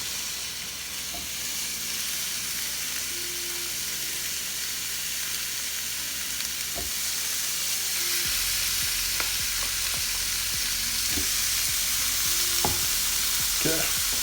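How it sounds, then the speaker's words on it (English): Chili cheeseburger patties sizzle loudly and steadily on a Ninja Foodi grill, a dense continuous frying hiss with a few clicks and knocks scattered through it and no voices. "Look at that sizzle."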